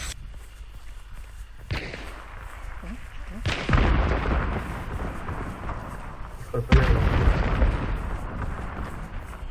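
Gunfire in a shooter video game: three heavy blasts at intervals, each trailing into rumbling noise, with people talking excitedly over the action.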